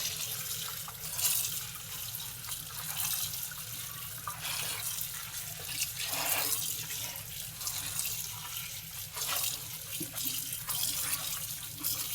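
Kalmi (water spinach) greens being rinsed under a running kitchen tap, a steady splashing flow of water into a sink with small shifts as the leaves are handled, continuous and fairly close.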